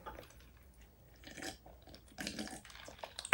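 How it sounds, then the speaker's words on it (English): Close, wet chewing and crunching of jumbo king crab and shrimp in garlic sauce, with irregular soft bites and smacks, quiet pauses between, and a louder clatter at the very end. "Okay, so I'm gonna finish chewing this."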